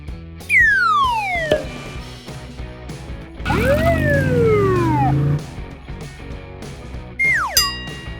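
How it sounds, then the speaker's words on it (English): Cartoonish police car siren effects in a kids' vehicle game, loud sliding whoops and wails rising and falling in several bursts amid playful musical tones. "Find the monster police car."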